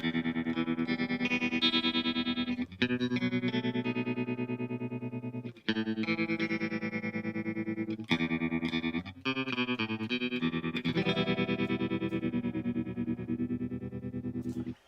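Electric guitar chords ring out through a pulsing, wavering tremolo effect, sustained and evenly loud, with brief breaks between strummed phrases.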